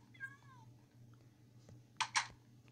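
A house cat gives one short, wavering meow near the start, faint against a quiet indoor room hum, followed later by two sharp clicks.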